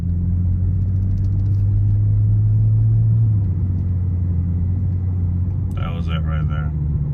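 A BMW 335i accelerates under load with a heavy, continuous engine rumble and a slight shift in pitch partway through, heard from inside the car with a person speaking over it.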